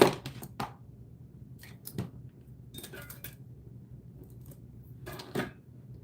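Scissors snip through a piece of craft clay in a few sharp, close clicks clustered at the start, middle and near the end, over a quiet steady background hum.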